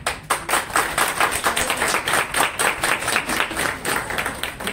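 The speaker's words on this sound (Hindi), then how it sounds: "उससे तेज हमारी तालियां बजनी चाहिए" An audience at a Delhi poetry stage gathering claps in a loud, rhythmic unison beat, the steady claps close and evenly spaced across the whole stretch.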